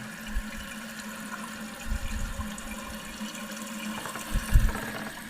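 Water refilling a toilet tank after a new toilet install, a steady faint rushing hiss with a few low gurgling swells, no voices.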